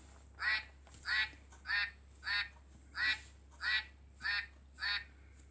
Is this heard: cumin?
no